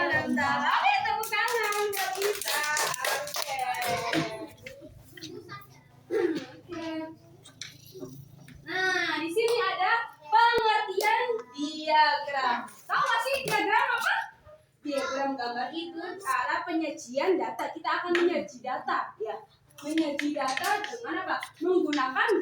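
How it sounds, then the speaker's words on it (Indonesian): Children clapping hands in a primary school class, brisk rhythmic bursts of claps that come and go between stretches of sung and spoken voices, with a child's babble and a teacher talking in the room. "Ayo tepuk tangan buat kita."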